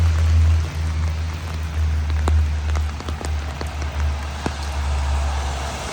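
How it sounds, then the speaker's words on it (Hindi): Heavy rain pours steadily on a city street in Vancouver's East Hastings area, a dense hiss with scattered sharp drop impacts and a low rumbling hum underneath. "बहुत तेज़ हो रही है बारिश"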